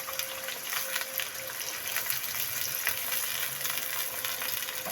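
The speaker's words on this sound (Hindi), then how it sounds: "अब हम इसी ऑयल में गाजरें फ्राई करेंगे। सारी एक ही दफ़ा डाल देंगे।" Carrots fry in hot oil with a steady, close sizzle and crackle, with occasional stirring and bubbling bursts and no talk.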